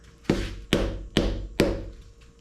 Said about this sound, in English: Rubber hammer and